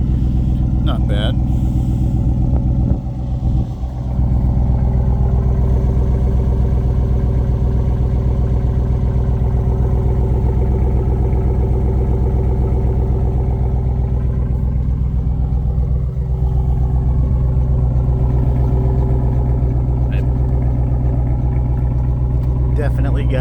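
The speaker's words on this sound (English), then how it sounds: "this is the cold start muffler delete" A 2021 Chevrolet Silverado Trail Boss with a 5.3 V8 and a muffler-delete exhaust cold-starting and settling into a loud, deep, steady rumbling idle that is close by and continuous throughout.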